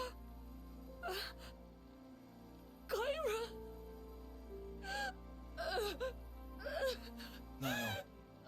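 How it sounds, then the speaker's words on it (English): Video game character in Xenoblade Chronicles 3 panting and gasping while running, in short breathy bursts spaced across several seconds over quiet background game music. "Exhausted, panting while running."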